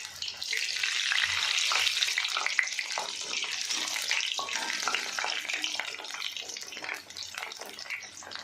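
Muthiya dumplings sizzle in hot oil on a medium-to-high gas flame, a loud, continuous crackling hiss with bubbling pops, close and steady with no talking.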